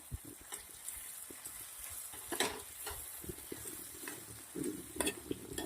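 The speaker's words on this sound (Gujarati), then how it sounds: "હવે મિક્સ કરી દઈશું" Ground masala and freshly washed chopped coriander are stirred in a pan for a brinjal curry. Soft, low frying hiss sits under quiet, irregular scrapes and clinks, with a few louder strokes near the end.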